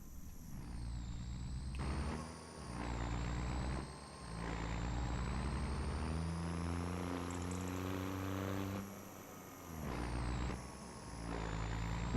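A heavy truck in Farming Simulator 25 drives with a steady low engine drone and harmonic whine, interrupted by a few short pauses and air-brake hisses, heard alone at moderate level.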